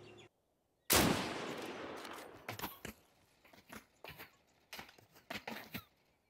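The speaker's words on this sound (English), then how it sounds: "Now it's a machine gun." Machine gun fire in Deadside, opening with one loud, close blast that rings out and fades, followed by scattered bursts of quieter shots.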